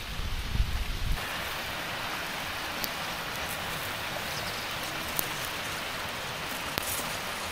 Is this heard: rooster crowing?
no